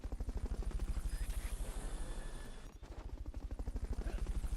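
Steady rhythmic thumping of a video game helicopter's rotor blades, close and continuous, with a brief crackle midway.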